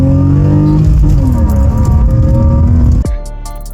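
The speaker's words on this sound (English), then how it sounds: "you get some really nice intake sounds" A BMW E36 engine with a cold air intake revs loudly with a rising intake roar, holds, then drops sharply as the throttle closes near the end.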